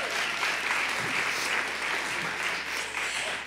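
Dense applause from an audience at a school writing contest ceremony honoring participating students, a steady, continuous wash of clapping from many hands without a pause.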